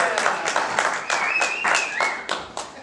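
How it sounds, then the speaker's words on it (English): A small audience at a trail classification training session claps in separate, distinct bursts that come and go rather than as a continuous roar, with some voices heard between the claps. "You can applaud."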